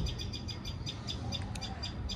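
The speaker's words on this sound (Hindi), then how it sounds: "यहाँ पे छोटे छोटे चिड़िया देखो कितना प्यारे प्यारे साउंड आ रहा है चिड़ियों का" Small birds in a home vegetable garden give quick, repeated high chirps in a steady rhythm over a constant low background hum. The calls are fairly close but light.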